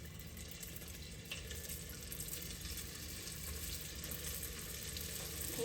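Pork and vegetable egg rolls frying in hot oil over medium heat, giving a steady, close sizzle that stays even throughout and grows slightly louder toward the end.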